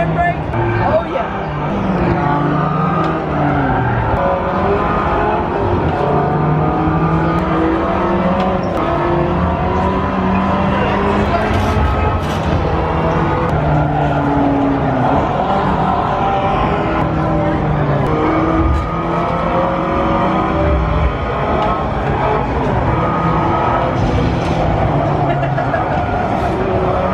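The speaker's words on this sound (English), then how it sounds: "They've got a driving sim of Forza 7." A Forza 7 racing game on a driving simulator at an auto show: car engine roar and tire noise run continuously and loudly, mixed with crowd chatter and talk throughout.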